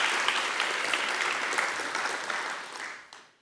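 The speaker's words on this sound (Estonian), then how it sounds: "Aplausi." An audience in a hall claps together in a dense, steady round of applause that tapers off after about three seconds.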